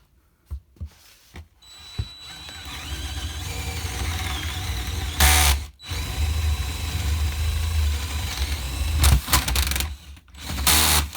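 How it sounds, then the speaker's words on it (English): A power drill whirs steadily through material for several seconds, with a few clicks and knocks before and brief stops partway, while fitting a Python siphon system. "let's drill through and hope I get where that hole was."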